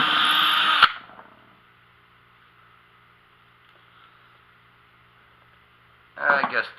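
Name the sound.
drilling into a drywasher box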